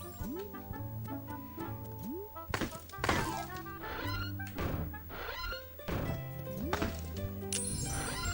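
Blocks being smashed in the video game Wonder Boy: The Dragon's Trap, a series of punchy thunks and cracks over bouncy game music and chirpy effects, repeating every second or so.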